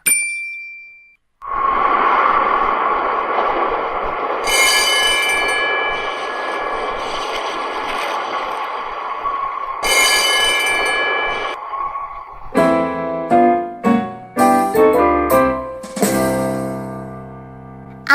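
A tram's bell clangs repeatedly over the loud rumble and rattle of the moving tram, ending in a quick series of ringing dings.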